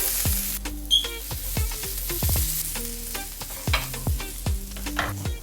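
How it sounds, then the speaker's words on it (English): Frozen green plantains crisping in a hot skillet, with a steady sizzle broken by repeated sharp knocks and scrapes of a utensil against the pan at an irregular rhythm, close and fairly loud. "So I've heated up a skillet already and I'm going to crisp these up on their own."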